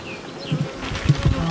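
Close, continuous buzzing of honeybees swarming around during acacia honey extraction, a steady insect drone with small swells and no voices.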